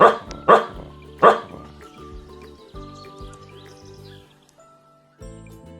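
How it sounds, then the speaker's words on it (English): A Newfoundland dog lets out three loud, deep barks in the first second and a half, followed by quieter background tones and a faint whistle-like call fading out. "Newfoundland dog."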